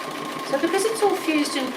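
Sewing machine doing free-motion appliqué stitching through fused fabric on a dog-themed design, running steadily with a fast, close, even whir that pulses slightly as the fabric is moved, under a faint talking voice.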